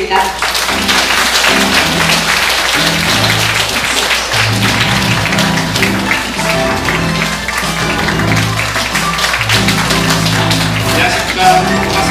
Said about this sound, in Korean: 나오실 때 여러분 큰 박수 부탁드립니다.